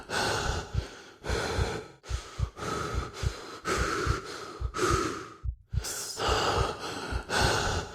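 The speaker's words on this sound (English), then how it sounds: "Except for your breathing." Heavy breathing alone in near silence: about a dozen slow, close, rasping inhales and exhales in a steady rhythm, with one short pause before the breaths resume.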